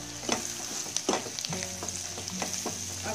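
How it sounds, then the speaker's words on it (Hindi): Masala spice paste frying on medium heat for egg biryani, a close sizzle with rhythmic stirring scrapes and clinks, a soft hum beneath, no voices. "अब मसाला को थोड़ी देर हम भुजेंगे मीडियम आंच पे, मीडियम हीट पे।"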